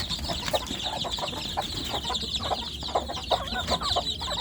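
Busy chorus of small village chicks cheeping nonstop in a brooding box, with occasional soft clucks from a hen nearby.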